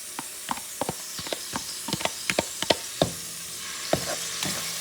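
Tomato going into a hot pot for a Puerto Rican shrimp and pigeon pea rice stew, sizzling steadily up close with a run of sharp spoon scrapes and stirring clatter, no talk.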